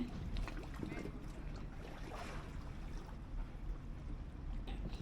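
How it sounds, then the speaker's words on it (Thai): Soft, steady rush of gentle sea waves with wind blowing across, a continuous low wash heard outdoors. "ลมพัด เย็นสบาย นั่งฟังเสียงคลื่นเบา ๆเพลินดีเหมือนกันนะ"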